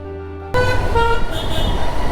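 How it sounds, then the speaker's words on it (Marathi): Vehicle horns honking on a road in a posted silence zone, a sudden loud tonal blare that cuts in and keeps sounding with traffic noise behind. "सायलेन्स झोन लिहिलं तिकडं सगळेजण तिकडंच हॉर्न मारायला"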